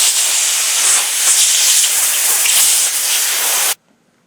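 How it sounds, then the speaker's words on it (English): Compressed air blasts steadily into the gap of a separated, glue-bonded athletic shoe sole at the heel, a loud, close, continuous hiss lasting several seconds before cutting off abruptly. "So I'm going to blow this out with an air compressor."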